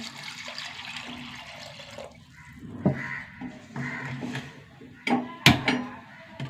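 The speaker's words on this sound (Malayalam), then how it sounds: "കുറച്ച് വെള്ളം ഒഴിച്ച് കൊടുക്കുക." Water is poured into a pot of large, unpeeled mango pieces with green chillies and curry leaves for a mango curry, giving a steady splashing gush at first, followed by scattered clinks and knocks close by.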